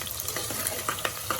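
Small onions sizzle steadily in a hot pan for a village-style chicken kuzhambu, a close, even hiss with a few soft taps and bubbling bursts and no talking.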